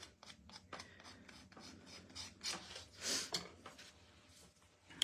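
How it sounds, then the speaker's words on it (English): An old piece of sandpaper rubs over the corners of a small bunny figure, giving a string of short, close rasping strokes that swell louder near the middle and then fade. No one talks. "you can always just use a piece of sandpaper, like this is an old one, and get in there"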